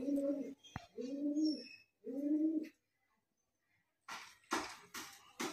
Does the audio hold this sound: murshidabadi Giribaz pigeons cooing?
yes